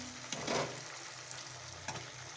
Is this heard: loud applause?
no